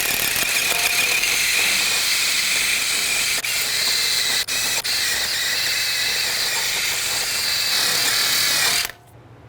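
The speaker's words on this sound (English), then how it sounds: "I'm going to use a wire brush, take off as much of the rust as possible." Wire brush, likely power-driven, scrubs rust off the hub surface of a 2017-2022 Honda CR-V front wheel during a brake job, a loud continuous hissing grind with a few brief dips before it stops suddenly.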